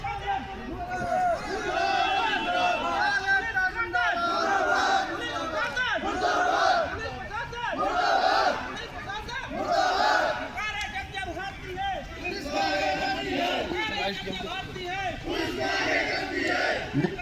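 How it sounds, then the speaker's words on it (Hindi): Agitated crowd shouting and chanting continuously during a police riot-control drill by a PAC battalion in Naini, Prayagraj; a dense, loud wall of many voices yelling at once, with surges and no pauses. "भीड़ और उग्र होती जा रही है"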